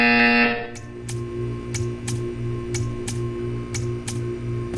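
A buzzer in the video game Portal 2 sounds as a steady, loud electronic drone pulsing in a regular rhythm, accompanied by evenly spaced sharp ticks, with no talk over it.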